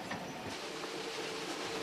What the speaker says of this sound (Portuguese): Nicolau II ordena o trem imperial a deixar a frente e dirigir-se para Petrogrado